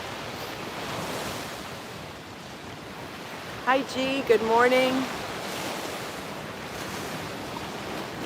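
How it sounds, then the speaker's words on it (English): Ocean surf washes steadily onto the shore as a continuous rushing wash, with a brief close voice speaking over it midway. "Yes, the waves sound amazing."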